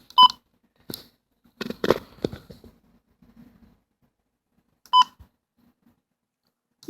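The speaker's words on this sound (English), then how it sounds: "I got a 1050 hertz tone on KH43" Weather radio receiver sounding short beeps and tones from a weekly test alert, scattered bursts with silent gaps between them, fairly faint.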